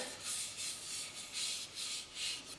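A wooden bowl is sanded with 100 grit abrasive, giving soft, rhythmic rasping strokes that swell and fade roughly every half second, quiet and close with no talking.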